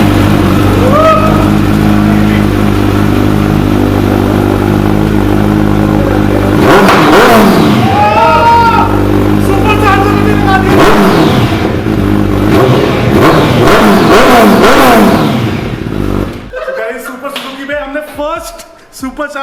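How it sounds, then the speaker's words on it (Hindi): Supercharged 2021 Suzuki Hayabusa motorcycle fitted with a new Akrapovic exhaust, revving loudly and continuously close by with rising and falling engine pitch, and voices talk over it before the revving drops off near the end. "सुपर चार्ज हायाबुसा भी आपने आवाज सुनी"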